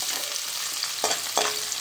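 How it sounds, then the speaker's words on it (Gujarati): Chopped garlic frying in a small amount of oil in a pan for a dry jinga curry, a close steady sizzle with a couple of brief clinks from a utensil, with no voices. "ચાલો હવે આપણે લસણ એડ કરવાનું છે."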